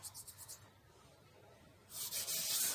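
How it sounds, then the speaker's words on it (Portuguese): Hand sanding of OSB wood board with manual sandpaper: soft, repeated gritty rubbing strokes, brief at first, then a louder, steadier scraping stretch near the end, close and alone. "Pode ser com a lixa manual ou com a máquina. Muito fácil de lixar."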